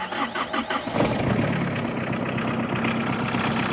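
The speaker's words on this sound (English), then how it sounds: "If it sits 10 years or 2 days, that's how it cranks." An old collector car's engine with glow plugs, cranking in a quick rhythmic churn for about a second, then catching and settling into a steady, close idle.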